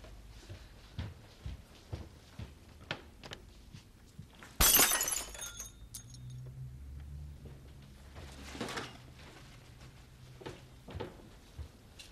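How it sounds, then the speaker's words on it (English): Glass smashes in one sudden loud crash with a brief tinkling spray of shards, set in a quiet domestic room in a TV drama, followed by low rumbling background noise. "However many glasses you may feel like smashing"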